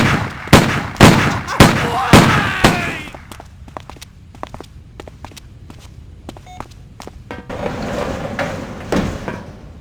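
Gunshots in the Stubbs the Zombie video game: a rapid burst of loud sharp shots in the first few seconds, then scattered fainter cracks and clicks over a low rumble, with a brief swell of noise near the end.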